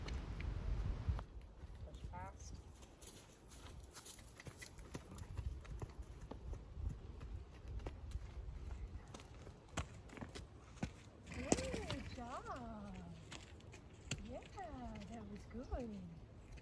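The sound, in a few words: Mustang gelding horse hooves during canter transition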